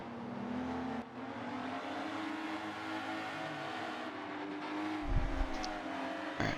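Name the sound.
race cars on warm-up lap at Catalunya, video game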